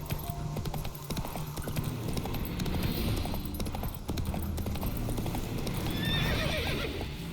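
Roach, the horse in The Witcher 3 video game, trots with steady clip-clop hoofbeats and lets out a neigh, heard close over a continuous game ambience with no speech.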